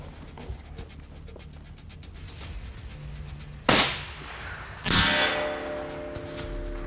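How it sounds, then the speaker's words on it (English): Rifle shots fired at a long-range target while hunting mule deer in Montana, two sharp reports a second apart that ring out and decay over open ground, with quiet ambient noise before them. "I'm gonna have Alan shoot"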